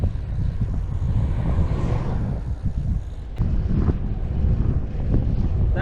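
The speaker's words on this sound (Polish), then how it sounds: "Jedziemy trochę pod wiatr" Steady roaring headwind buffeting the microphone of a cyclist on a Triban RC 100 road bike, loud and continuous throughout, with low rumbling gusts and no voices.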